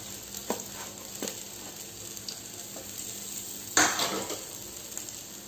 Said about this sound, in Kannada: ಫ್ರೈ ಮಾಡಲಿಕ್ಕೆ ಹಾಕಿದ್ದೇನೆ ಇದು ಇವಾಗ ಚೆನ್ನಾಗಿ ಫ್ರೈ ಆಗಬೇಕು